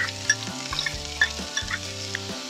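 Onions and carrots sweating in olive oil in a pan, a close steady sizzle broken by repeated spoon stirs and light scrapes.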